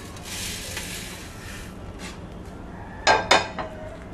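Dry-roasted coriander seeds and chillies for sambar powder tipped from a pan onto a plate, heard as two sharp rattling clinks and a softer patter of dry spices over a quiet background.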